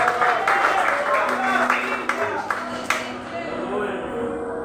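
Church congregation applauding during an evening service, a burst of clapping mixed with voices and shouts of praise, strongest at first and thinning toward the end.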